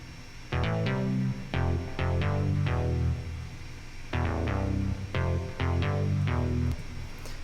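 Chord progression on the Diva synth plugin using the MK90's Rave 5th preset, deep tech house style: stabbing rhythmic chords in two repeating phrases, loud and clear with no talking.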